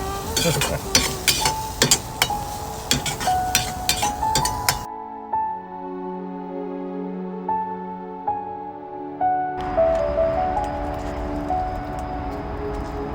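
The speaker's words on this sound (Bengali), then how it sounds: "এখন পেঁয়াজ আর রসুন ভাজা হইতেছে" Onion and garlic frying in oil outdoors in a backyard, with a soft sizzle under repeated metallic clinks and scrapes of a spoon stirring the pan, broken by a stretch of music without cooking noise.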